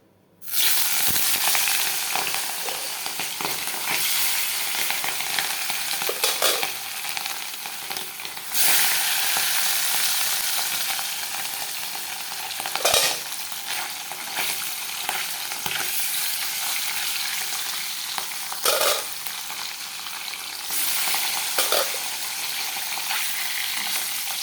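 Fish fries in a pan, making a loud, steady, close sizzle that carries on throughout, broken now and then by a few sharper scrapes and stirs.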